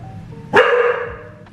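A dog gives a single sharp, fairly close bark that rings out briefly over a quiet indoor background.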